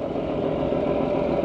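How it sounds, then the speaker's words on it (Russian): Boat engine exhaust pipes on a Bangladesh river vessel give a steady, continuous low rumbling drone, loud and close, with no talk over it. "Выхлопные трубы."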